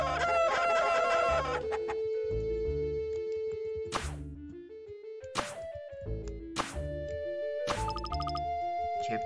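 Chickens in the Mogeko Castle game cluck rapidly and then crow several times in loud, separate bursts over light game music.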